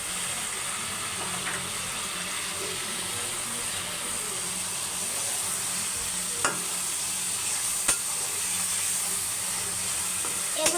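Tomatoes go into a pan of frying poli fish and get stirred, giving a soft steady sizzle with a few brief clinks of the utensil against the pan, fairly quiet and without talk.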